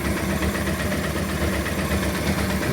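A rebuilt Honda Transalp 600 motorcycle engine idles close by with a steady, even throb and a dense mechanical hum that never breaks, and no voices are heard over it.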